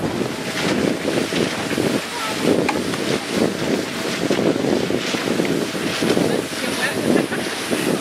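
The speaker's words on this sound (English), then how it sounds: "You're gonna feel some waves." River waves slapping and splashing against a raft in Glen Canyon, a constant rushing wash of water with wind buffeting the microphone throughout.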